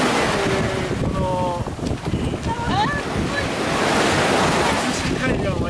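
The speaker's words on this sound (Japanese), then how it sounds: "すごい波は。" Ocean waves crashing and surging continuously at Zushi beach, Japan, loud and near with wind buffeting the microphone, while people chatter and exclaim over the surf.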